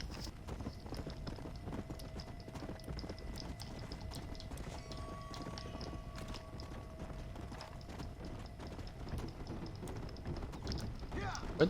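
Horse hooves clip-clop at a steady gallop in the video game Red Dead Redemption: Undead Nightmare, a continuous rhythmic clatter under game ambience and faint tonal sounds, with someone talking over it.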